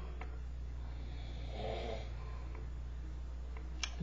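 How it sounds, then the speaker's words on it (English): A man snores faintly in the background of a quiet room, a soft, low rasping breath rising once in the middle, with a small snort or sniff near the end. "my husband, who you hear snoring in the background"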